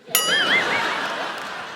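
A phone ringing: a sharp bright ding followed by a short warbling electronic tone that fades out, heard alone.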